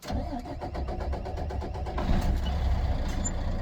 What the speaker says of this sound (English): It is gone now, so I'm going to push in my clutch and then start the engine.